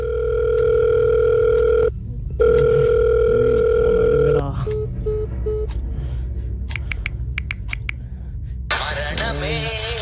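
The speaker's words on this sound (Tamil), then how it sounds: "நாமே ஏன் ஃபோன் பண்ணி யாரையும் கூப்பிடக்கூடாது" A telephone handset carries an outgoing call: a steady tone is interrupted once, then shorter repeating ringing beeps follow, loud and close, with other brief electronic and room sounds toward the end.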